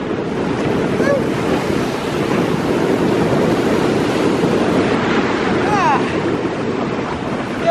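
Strong wind buffets the microphone over the constant roar of surf on a beach on Jeju Island, South Korea, a loud unbroken rush with a few faint bird calls.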